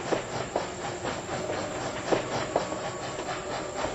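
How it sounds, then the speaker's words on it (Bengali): A train roars past as a dramatized horror audiobook effect, with steady rumbling hiss and a few sharp metallic clacks spaced irregularly, loud and alone with no talk. "গর্জন করতে করতে সামনে দিয়ে বেরিয়ে গেল ট্রেনটা।"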